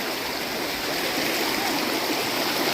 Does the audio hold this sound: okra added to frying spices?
no